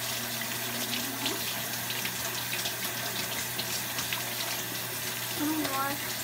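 Water runs steadily from a tap for washing, a continuous splashing hiss under occasional talking.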